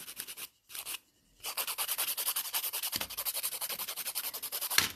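A nail file rubs rapidly back and forth across fingernails in fast rhythmic strokes, close and clear, with brief pauses between bursts and no talk.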